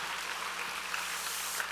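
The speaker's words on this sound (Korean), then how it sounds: "힘차게 뜨거운 격려의 박수" Congregation applauding during a Sunday evening church service, a dense steady patter of clapping that holds evenly from start to finish.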